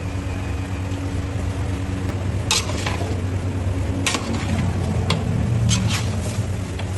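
A spatula works idiyappam into chicken biryani curry in a pot, with a soft sizzle underneath and several sharp metallic clinks and scrapes against the pan.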